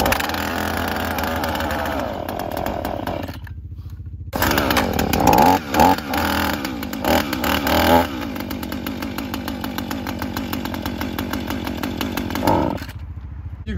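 A chainsaw runs steadily and loudly up close, its engine note shifting as it works and briefly cutting out twice, with no talk over it.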